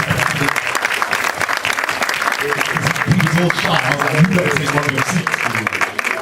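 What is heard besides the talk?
audience applause for the poster artist at a panel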